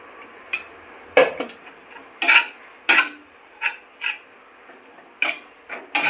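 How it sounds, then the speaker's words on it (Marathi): Thecha being sautéed in a pan with a little oil and crushed peanuts: irregular dry scraping and rubbing strokes of a spatula over a quiet background, close and fairly loud, with no speech. "आता आपण परत गॅसवर ठेवून थोडंसं तेल टाकून परतून घेऊया आणि शेंगदाण्याचा कूट टाकूया"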